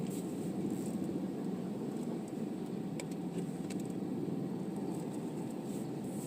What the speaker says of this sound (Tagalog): Matindi talaga ang traffic dito ngayon pag mga Pasko, holiday.